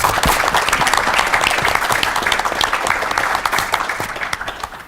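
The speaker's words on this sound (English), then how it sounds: "So give Juanita a round of applause, please." An audience applauds continuously, a dense wash of many hands clapping at steady loudness before tapering slightly near the end.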